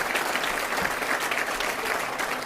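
An audience at an elementary school ribbon-cutting ceremony claps steadily, a full, even wash of applause lasting a couple of seconds with no break.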